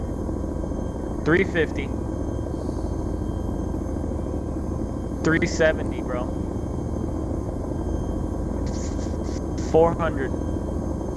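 A helicopter in the military game Arma 2 flies with a steady, loud rotor and engine drone that fills the whole stretch, while someone speaks briefly over it now and then.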